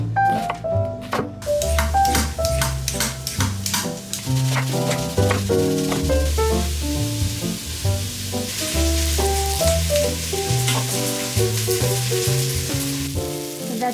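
Vegetables sauté in about a tablespoon of coconut oil beside a tofu soup, giving a steady hissing sizzle that carries beneath prominent music.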